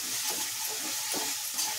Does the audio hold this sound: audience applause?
no